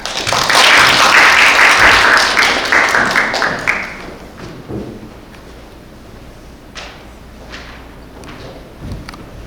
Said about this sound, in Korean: 은평 정책연구단의 김미윤 단장님을 박수로 청하겠습니다